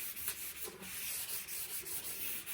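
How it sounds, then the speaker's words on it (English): A sanding sponge rubs across a freshly torched axe head of Japanese splitter pattern, producing soft, quiet repeated scratchy strokes in an irregular rhythm with no talk. "Now I'm going to knock it, kind of rub it down with the sanding sponge to get all the"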